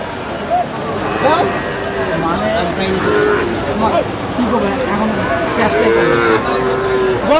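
Cattle, including young bulls and calves, moo repeatedly at a busy livestock market; loud, drawn-out lowing overlaps with nearby voices and background crowd chatter.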